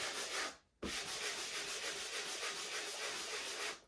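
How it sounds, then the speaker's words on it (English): A block sander rubs over a dried drywall patch in a final sanding pass, making a steady, close scratchy rasp in rhythmic strokes, with one short pause early on and no talking. "you're going to take your block sander. You're going to give it a final sand."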